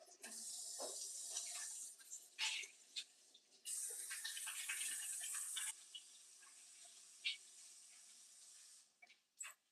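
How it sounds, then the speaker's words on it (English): Running tap water splashes steadily into a kitchen sink as hands are washed before handling raw chicken, a continuous hiss with a brief break, then further flowing and dripping splashes. "I'm gonna wash my hands a little bit again before I touch on meat"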